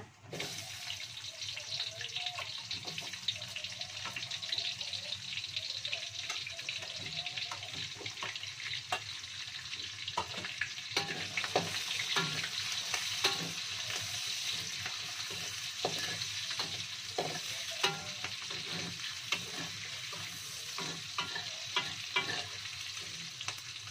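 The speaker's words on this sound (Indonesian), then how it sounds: "sekarang dituangkan berambang merahnya" Red shallots fry in hot oil with spices for spicy fried chicken, a continuous close sizzle and crackle with frequent sharp pops and spatters throughout.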